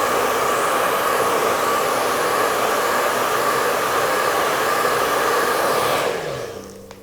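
A hair dryer blows on watercolor paint with a loud, steady, close rushing whir for several seconds before it is switched off and winds down.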